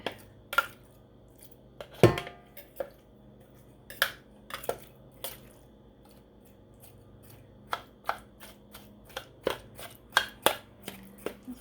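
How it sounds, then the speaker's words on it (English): A knife chops apple chunks on a board for a German chocolate cake, giving a series of crisp, irregular knocks, some close together and some spaced apart, with faint handling clatter in between. "I'm just gonna take my knife, like right there, that one. I'm just gonna chop it."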